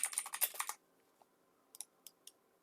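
A short burst of rapid keyboard key clicks, then quiet, followed by a few separate single key taps.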